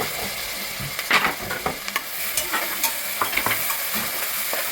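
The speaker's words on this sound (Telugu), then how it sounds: "నెక్స్ట్ టమాటాలు వేస్తున్నానండి." Tomatoes go into a hot pan of village-style mutton head curry with onions, bringing a steady sizzle with scraping stirs and irregular clatters close by. No voices are heard.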